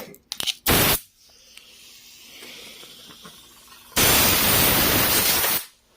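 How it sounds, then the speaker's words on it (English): Compressed air blasts dust out of a space heater, with a short burst near the start and then a longer, loud, steady hissing blow lasting about two seconds, close by. "you're just blowing the dust out of it."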